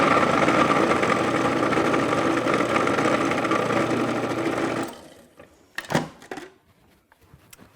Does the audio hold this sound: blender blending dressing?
yes